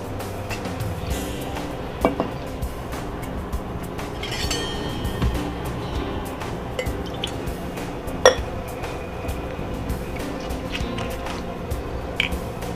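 A barista mixes a margarita with lime, a salt-crusted glass, tequila and triple sec, producing close, continuous clinks of glass and metal bar tools with occasional sharper knocks and liquid sounds.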